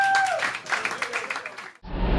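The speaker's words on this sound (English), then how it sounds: "Give yourselves a round of applause." A club audience at a music open mic claps and cheers briefly after a tonal sound, the applause fading out before an abrupt cut into different noise.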